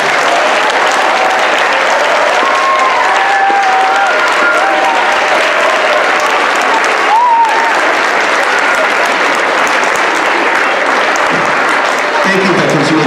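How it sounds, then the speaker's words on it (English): Applause from the audience at a school Veterans Day ceremony, honoring the veterans present. The clapping is loud and sustained, with scattered cheers and whistles over it, and it fades slightly near the end. "I would like a big round of applause for all our veterans today."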